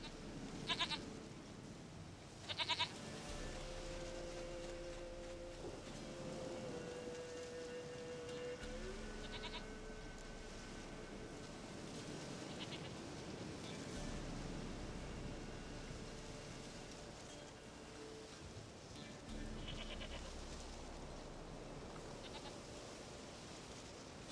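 A goat in The Witcher 3 gives a couple of short, sharp bleats near the start, followed by a long stretch of quiet outdoor game ambience.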